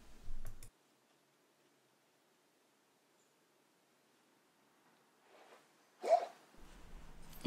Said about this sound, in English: I also do find the click much more satisfying with the original Pilot Vanishing Point.